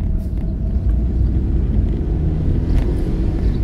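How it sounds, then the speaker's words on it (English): A car, a £200 secondhand buy that has just been repaired, has its engine running steadily on a test drive. A constant low rumble fills the cabin with no speech over it. "So we shall have a quick test drive and see if that has improved matters."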